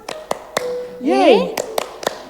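Children at Sunday school clap hands in several sharp claps in an uneven rhythm, with a voice singing or calling out in the middle between them.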